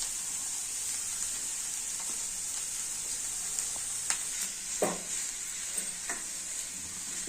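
Aloo curry with onion stirred in a pan as it cooks, a steady close sizzle and hiss with a few scattered scrapes and clicks of the spoon, no voices.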